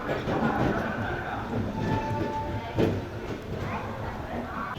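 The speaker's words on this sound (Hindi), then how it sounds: "अपनी ट्रेन निकल रही है गुंटूर रेलवे स्टेशन से" An Amrit Bharat Express train pulls out of Guntur railway station with a steady, loud rolling rumble and wheel clatter, under a murmur of a heavy platform crowd.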